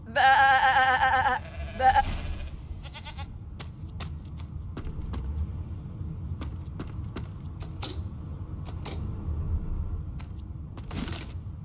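A sheep in the video game Divinity: Original Sin II bleats loudly and close at the start, followed by quiet game ambience scattered with faint clicks and jingles.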